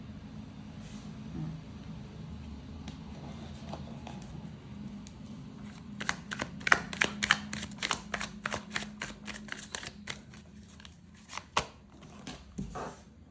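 Oracle cards being shuffled by hand, a quick run of crisp flicking riffles and taps, moderately close over a low room hum, with a brief spoken word early on.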